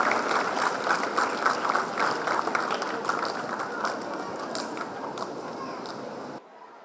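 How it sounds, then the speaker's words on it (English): Audience applause at a school annual day, dense steady clapping from a crowd that carries on for several seconds before cutting off abruptly. "Round of applause and encouragement."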